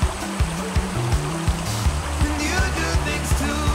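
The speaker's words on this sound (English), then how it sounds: "So we're getting closer and the creek is coming through kind of narrowing canyon walls." A creek rushes through a narrowing canyon in a steady, close wash of flowing water, overlaid by regular soft thumps like footsteps on the trail.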